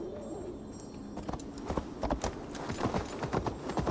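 Horse hooves clip-clop in the Assassin's Creed Valhalla video game, quiet at first, then picking up into a steady rhythmic walking beat of sharp, distinct hoof strikes.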